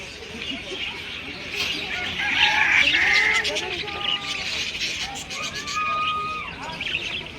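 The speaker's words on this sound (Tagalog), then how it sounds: "dito may manok din pala dito." Chickens cluck and squawk in a busy yard, with people talking over the birds throughout.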